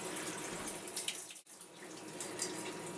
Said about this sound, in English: What you want to do now is wash your eggs